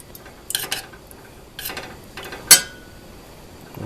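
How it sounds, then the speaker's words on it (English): A spoon stirs and knocks in a pot of canned Campbell's vegetable soup, giving a few close scraping strokes and one sharp metallic clink, with no talk. "Spoon. Just put that in there a bit."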